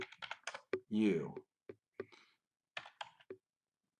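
Quick bursts of clicking keystrokes on a computer keyboard, fairly close, alternating with someone talking over and between them.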